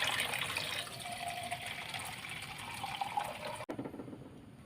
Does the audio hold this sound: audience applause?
no